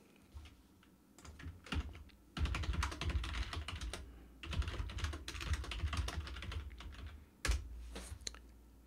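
Bursts of rapid clattering typing on a computer keyboard, close and fairly quiet, separated by short pauses and a few isolated key taps.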